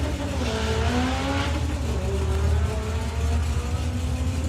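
An Audi four-cylinder drag car launches down a drag strip, a steady loud engine roar with rising pitch as it accelerates away, heard over a broad rushing background.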